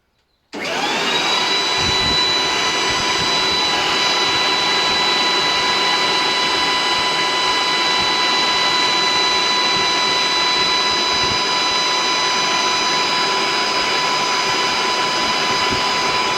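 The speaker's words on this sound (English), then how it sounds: "I'm going to start the leaf blower up" A leaf blower starts up and runs at a steady, loud, constant whine with a rushing air roar, unchanging throughout.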